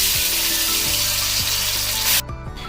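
Marinated chicken frying in hot ghee for a chicken biryani, giving a loud, steady hiss over soft background music before the sizzle cuts out abruptly near the end.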